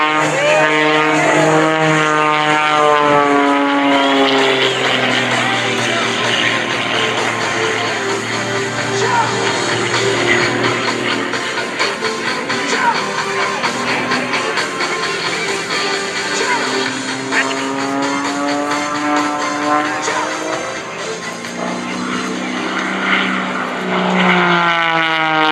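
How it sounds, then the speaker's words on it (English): Propeller aerobatic airplane flown by Kirby Chambliss at an airshow, its engine droning loudly and continuously with strong pitch sweeps as it passes and maneuvers, rising and falling through the whole stretch, with a faint announcer voice underneath. "now watch as he lets the airspeed bleed. The aircraft slows."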